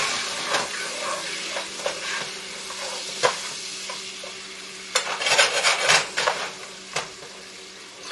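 Shrimp tossed and stirred in a hot pan with parsley and seasoning, a steady sizzle broken by scraping utensil strokes and a busier burst of stirring midway, close and without talk.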